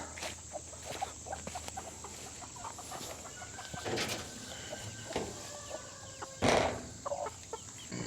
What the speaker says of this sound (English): those chickens are still inside